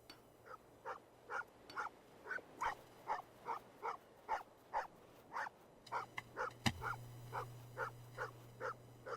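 A dog barks at its own reflection in a mirror, giving a steady run of sharp, evenly spaced barks about twice a second, fairly close and loud, with no talking over them.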